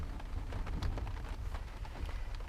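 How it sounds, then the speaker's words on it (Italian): Steady thunderstorm rain hisses and patters continuously, with a low rumbling undertone of distant thunder throughout. "senti la pioggia, senti il temporalone."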